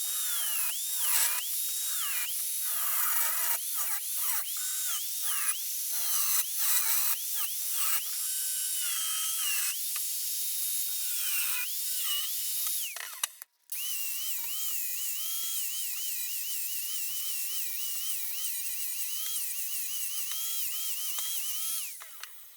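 A power tool notches steel tube for roll cage door bars on a drift car, whining loudly at close range in a steady high-pitched grind that dips and rises as it bites, then cuts out briefly before running on.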